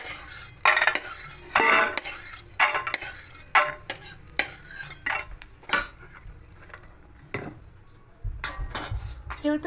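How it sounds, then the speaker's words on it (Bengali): Fried peanuts are scooped out of a wok, a series of sharp metallic scrapes and clinks from a spatula against the pan at irregular intervals, with a faint sizzle underneath. "বাদামগুলো ভাজা হয়ে গেছে,"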